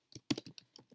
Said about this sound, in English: And I'll type it in here.